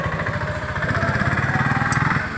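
A motorcycle engine idles close by with a steady, low, pulsing throb that holds an even rhythm throughout, with no talk.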